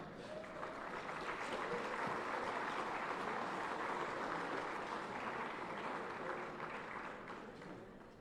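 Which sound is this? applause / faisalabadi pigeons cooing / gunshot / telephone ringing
applause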